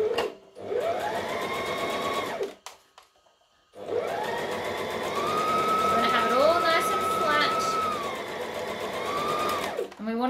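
A sewing machine stitching close to a seam runs in a short burst, pauses, then hums again for a longer steady run with a whining motor tone rising and settling, close and clear.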